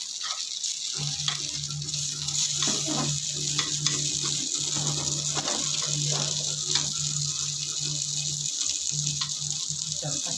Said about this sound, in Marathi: भाजताना आपल्याला हे आपले पात्र थोड़ा थोडं असं फिरवत भाजून घ्यायचे म्हणजे सर्व बाजूने छान असे भाजले जातात